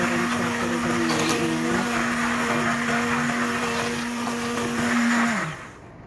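Electric blender whirring at a steady high pitch as it mixes salad dressing, loud and close with no talking, running continuously before the motor winds down and stops at the end.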